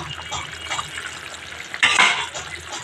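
A pan of fish curry with bitter gourd and onion cooks on the stove, giving a soft bubbling sizzle with light stirring and a brief louder scrape of a utensil against the pan near the end.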